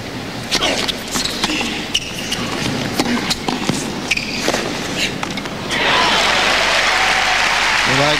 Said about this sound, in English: He gets a cheer there on the first point